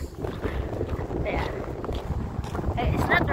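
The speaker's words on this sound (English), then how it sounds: "God, the wind." Strong gusty wind buffets the microphone outdoors in a blueberry forest in Norra Bergen, a loud fluctuating low roar with brief rustles, and a person talks over it.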